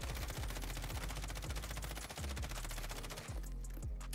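An M13 assault rifle fires in Warzone as a rapid, continuous burst of punchy shots in a steady fast rhythm, loud and close, stopping near the end, with no talk.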